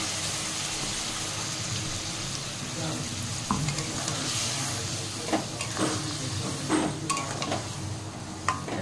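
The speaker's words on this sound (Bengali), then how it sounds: "ভালো করে কষিয়ে নেব" Spices sizzle and crackle in hot oil up close, a constant frying hiss punctuated by louder bursts as the mixture is stirred.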